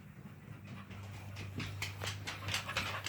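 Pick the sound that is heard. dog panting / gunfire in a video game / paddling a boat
dog panting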